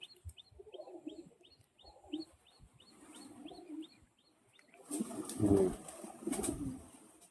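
Soft, repeated pigeon coos in a steady series, fairly close, near their nests, followed by louder rustling and fluttering near the end.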